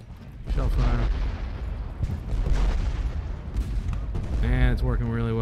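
Civil War artillery shellfire in the battle game Ultimate General Gettysburg: repeated dull booms and rumbling blasts fill the background while someone talks over them.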